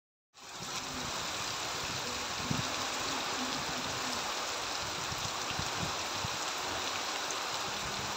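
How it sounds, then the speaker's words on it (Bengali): Steady, even hiss of light rain falling continuously, with a faint low rumble underneath. "দেখো সকালবেলা টিপ টিপ বৃষ্টি, এতটা ভালো লাগছে"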